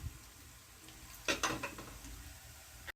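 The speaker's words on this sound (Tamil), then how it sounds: "கொஞ்சம் நேரம் நல்லா வதங்கட்டும்." Onion sautés in a pan over a soft continuous sizzle, with a short burst of spoon scraping and clinks against the pan midway, then low frying again.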